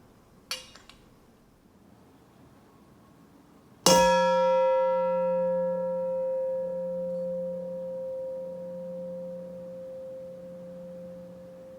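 A struck singing bowl rings out once, loud and close, its sustained tone slowly fading over several seconds after a small tap just before it.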